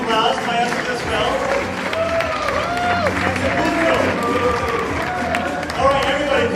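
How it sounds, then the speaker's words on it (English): An audience at a live fan event claps and cheers for a masked wrestler, a steady wash of applause and crowd noise with voices talking over it throughout. "Everybody give a round of applause."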